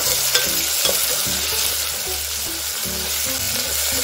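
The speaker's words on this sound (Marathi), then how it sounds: "आता हे सर्व साहित्य थोडा वेळ फ्राय करून घेऊया।" Garlic paste, chopped tomato and curry leaves frying together with a loud, close, continuous sizzle as a utensil stirs through them in uneven strokes.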